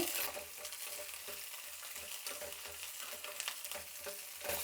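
Continuous oily sizzle and crackle of millet dosa batter frying in a hot pan, steady and close with small bursts of spatter throughout, no voices.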